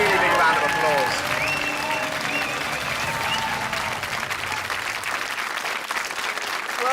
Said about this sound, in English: That is worthy of a really big round of applause.